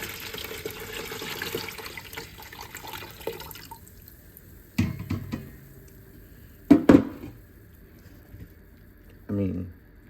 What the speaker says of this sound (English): I wanna pour this into this bowl so we can see just how much water this collected